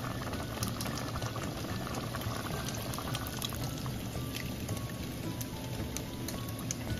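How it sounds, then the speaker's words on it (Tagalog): Steady rushing, bubbling water noise as the remaining water, ten cups, is poured into a pot of boiling lugaw (rice porridge), continuous and fairly close, with no voices. "Ngayon, pwede ko nang ibuhos yung ating natitira pang mga tubig."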